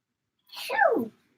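A single loud sneeze, a sharp breathy burst sliding into a falling vocal tone, close to the mic, lasting under a second.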